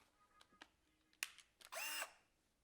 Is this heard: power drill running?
yes